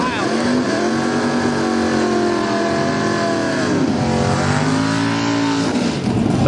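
Drag racing cars run the eighth mile at an NHRA Division 6 national event at Portland International Raceway, a loud sustained engine roar with rising and falling revs, with no break across the clip.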